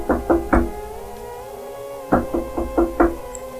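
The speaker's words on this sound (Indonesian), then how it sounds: "Terdengar ketukan kasar di pintu depan." Rough knocking on a front door comes in two loud, close bursts, three quick raps, then a pause, then five more heavy raps in an uneven rhythm.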